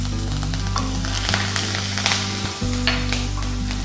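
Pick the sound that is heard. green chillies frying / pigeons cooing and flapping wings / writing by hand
green chillies frying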